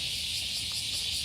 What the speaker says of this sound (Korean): 길에 매미 소리가 엄청나요.